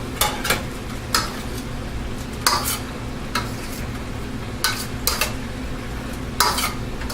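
Steak and mushrooms fry in a pan for teriyaki steak with udon, a continuous close sizzle broken by repeated scraping clinks of a utensil stirring against the pan.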